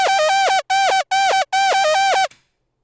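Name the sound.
synthesizer lead with bright white analog noise layer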